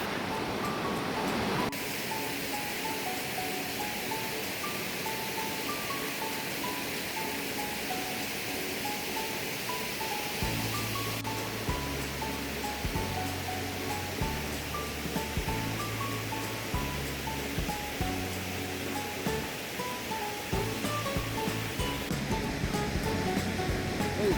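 A steady rush of flowing water fills the whole scene, a constant broadband roar heard close by, with faint musical tones underneath partway through.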